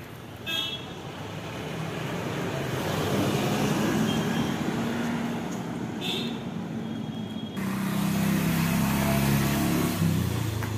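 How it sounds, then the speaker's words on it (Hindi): A traffic jam on a hill-town road in Mussoorie, India, in the evening: a steady wash of idling and creeping vehicles with engine rumble and brief horn toots, close and continuous without a break. "यहाँ पर भी देखिए इतना ट्रैफिक जाम हो रहा है।"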